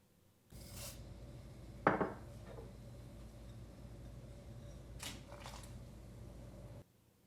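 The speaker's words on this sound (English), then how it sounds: "add in the tofu and dried wakame." Tofu and dried wakame go into a pot of miso soup with soft, faint splashes and a light knock against the pot, set over a quiet low hum.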